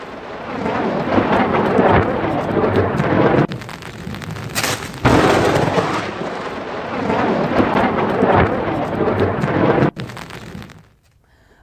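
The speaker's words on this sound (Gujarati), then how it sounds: "આ વીજળી પડવાની ઘટનાનો વિડીયો 7 સેકન્ડનો વિડીયો બનવા પામ્યો છે." Thunder from a lightning strike during a storm rolls as loud, heavy rumbling with a sharp crack partway through, rain hissing underneath, then fading abruptly near the end.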